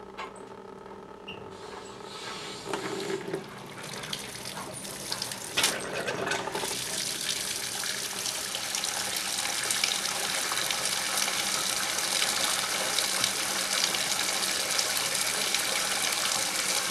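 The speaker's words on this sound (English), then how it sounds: "So now we're going to turn the water back on, let it fill up, and see what we've got here." Water runs from a faucet in a sink after a leaky faucet repair, starting with some clanks and low gurgles, then settling into a steady, full hiss of flowing water.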